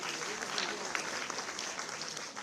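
Applause at a ceremony honouring a student topper: an even patter of many hands clapping at moderate distance, with a voice faintly present beneath.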